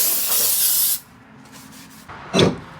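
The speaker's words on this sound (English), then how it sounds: "Ooh, you got the nice brake clean." Brake cleaner sprays onto a car's brake rotor in a loud, close hiss for about a second, followed by quieter hissing and a short final burst of spray.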